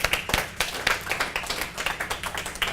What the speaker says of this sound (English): Give yourselves a big hand clap for being here.